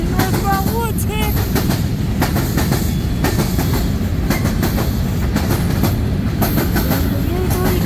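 A CN freight train, the northbound Woodtick led by locomotive 3368, a former BNSF Dash 9-44CW, rolls into Ladysmith, Wisconsin, with loud steady rumble, clattering wheels and occasional squealing tones throughout.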